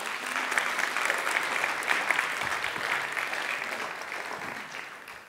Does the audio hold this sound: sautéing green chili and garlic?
no